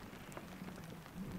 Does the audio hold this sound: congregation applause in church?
no